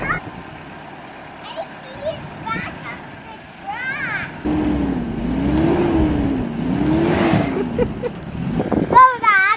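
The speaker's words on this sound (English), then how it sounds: "My husband's backing his little truck that he runs to work with up here" A small pickup truck reverses at a home renovation site in Arizona, its engine note rising and steadying into a loud, continuous drone with low rumble, while people talk intermittently over it.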